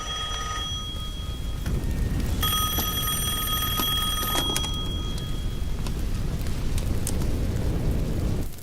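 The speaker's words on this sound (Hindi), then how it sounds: "वो फोन है।" A telephone rings in a Hindi-dubbed action movie scene. Bright, steady electronic ring tones pulse for a couple of seconds over a loud, dense rumbling background.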